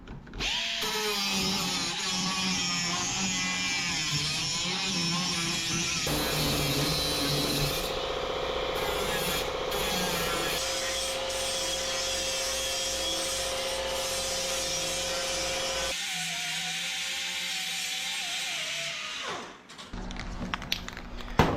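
A die grinder smooths the cut metal edge of a car door jamb, a steady high-pitched whine with shifting grinding tones that runs continuously and close for about twenty seconds before cutting off.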